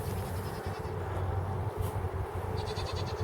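Goats at an island farm in winter call out, their bleats mixed into steady low background noise, with no speech.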